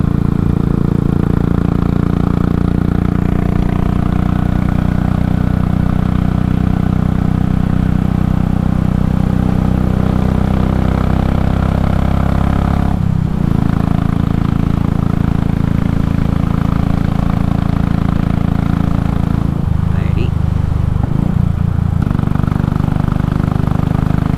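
A Royal Enfield Classic 500 motorcycle with a 19-tooth sprocket cruises at highway speed in fifth gear, its single-cylinder engine holding a loud, steady, unbroken drone with only brief dips, and no voices over it.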